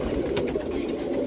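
Birmingham Roller pigeons coo in a low, steady, continuous murmur, fairly near and loud, with faint higher chirps above it and no one speaking.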